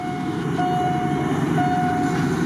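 A Kiha 183 diesel train running a Bangkok–Ayutthaya special passes Yommarat junction with a loud, steady rumble close by. A faint tonal whine rides over the drone.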